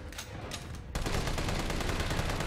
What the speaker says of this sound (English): Pump a load of bullets into the hunter while it's flashed.